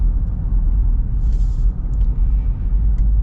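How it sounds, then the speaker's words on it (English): Steady low road rumble fills the cabin of a Ram Limited pickup with air suspension while it drives, a continuous drone broken only by faint brief clicks and no talking. "It does have a little bit of road noise, but it's not bad."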